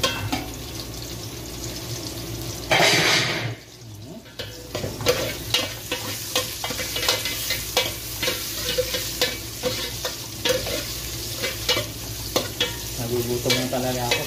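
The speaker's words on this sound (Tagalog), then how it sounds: "Pwede nang ilagay yung sibuyas pag ganyang ma-brown-brown na yung bawang" Onion is added to browned garlic for chicken tinola, with a loud burst of sizzle as it hits the oil, followed by steady frying and rhythmic stirring scrapes.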